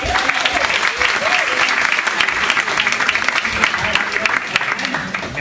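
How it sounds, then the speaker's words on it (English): A live comedy show audience breaks into loud, sustained applause, many hands clapping together for several seconds, with a few voices calling out underneath. "Huge round of applause for Ainsley"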